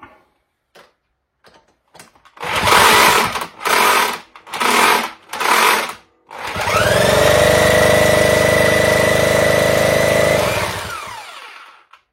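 A Solex moped's small engine is cranked in a few short bursts, then catches and runs steadily at a fairly high, buzzing idle for several seconds before cutting off.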